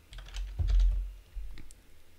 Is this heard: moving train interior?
no